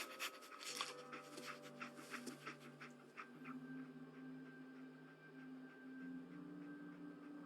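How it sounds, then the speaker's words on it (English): In the Fallout 4 video game, the dog companion Dogmeat pants and sniffs in quick rhythmic bursts over a low steady hum and faint game ambience. "Dog Meat. Get the scent, boy"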